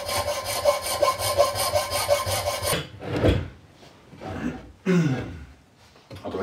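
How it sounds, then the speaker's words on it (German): A file rasps against an oak toilet-roll holder with a live edge in quick, steady back-and-forth strokes for about three seconds, followed by a few scattered scrapes and knocks. "Da müssen wir dann noch ein bisschen was abfeilen."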